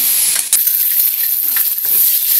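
Pork frying in a centennial kawali pan, a steady loud sizzle with faint clinks of stirring now and then.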